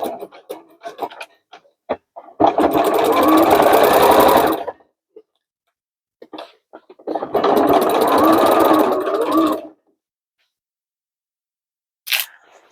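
A sewing machine stitches across the boxed corners of a denim tote bag in two loud, steady bursts of rapid needle clatter about two seconds each, separated by quiet pauses with small handling clicks.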